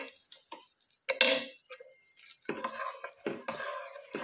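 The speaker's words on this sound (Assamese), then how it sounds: "দি পেলাই অকণমান লৰাই দিব লাগিব।" Vermicelli being stirred in a pan of heating milk, with intermittent scraping and clinking strokes in short bursts separated by brief quiet gaps, moderately close.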